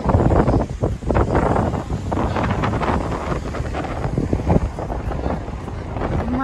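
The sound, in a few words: wind blowing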